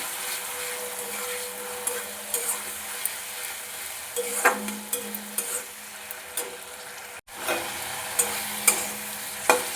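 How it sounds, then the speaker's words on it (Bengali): Ghugni spice mix with tomato paste fries gently on a very low gas flame, a soft steady sizzle broken by repeated light stirring scrapes and taps against the pan, close and fairly quiet. "আমি পুরো মশলাটা হালকা আঁচে করে নিচ্ছি গ্যাসের ফ্লেমটা খুব কমে রেখেছি"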